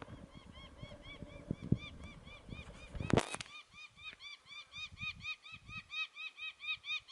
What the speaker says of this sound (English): this bird hasn't shut up for hours.